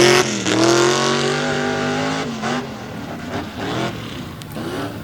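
Modified tuff trucks race through switchbacks in Windsor, Pennsylvania, engines revving hard and loud up close, rising and falling in pitch as the drivers accelerate through turns.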